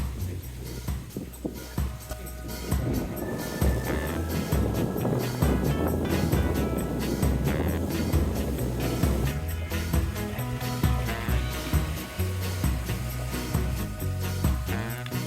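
A sailboat rides the Atlantic swell coming from the east after leaving the shelter of Antigua, with rushing water and wind buffeting the microphone in a continuous moderate wash that swells and eases.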